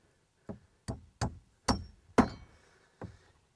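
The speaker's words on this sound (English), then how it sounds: "Now we can go ahead and just nail it to pieces." A hammer drives nails through a wooden block into a wall stud during wall framing, with six sharp, ringing strikes at uneven intervals, close and clear against a quiet background.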